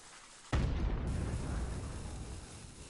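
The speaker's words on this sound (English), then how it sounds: "Explosion just randomly deletes house." A sudden heavy explosion in the Fortnite battle royale game hits hard and loud, then settles into a long rumbling tail that slowly fades.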